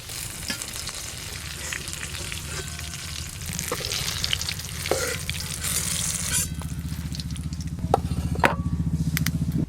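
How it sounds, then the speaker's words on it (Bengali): Eggplant slices frying in hot oil, a continuous close crackling sizzle that swells slightly over time, with occasional clinks and scrapes of stirring and no talking. "বেগুনগুলো কিন্তু একদম হালকা করে ভেজে নিয়েছি।"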